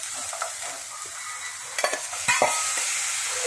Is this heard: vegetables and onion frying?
yes